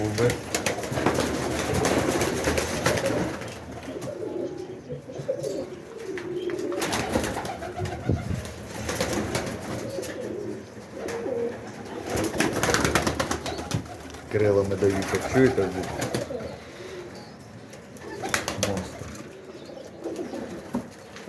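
Old-breed white pigeons coo repeatedly in low, throaty bursts, with occasional wing flaps and rustling nearby, continuing throughout.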